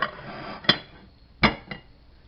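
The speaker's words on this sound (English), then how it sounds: "take the ramekin, put the plate on top, and then flip them over" A plate set on top of a ramekin and flipped over while making lava cakes gives a few sharp ceramic clacks and knocks, with two louder hits and some softer ones close by and no voices.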